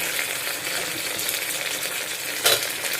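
Carrot, tomato and other vegetables sautéing in a pan for vegetable rice, a steady close sizzle and fry throughout with a brief louder stir or clatter near the end.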